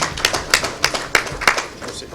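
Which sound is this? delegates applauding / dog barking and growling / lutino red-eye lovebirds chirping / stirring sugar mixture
delegates applauding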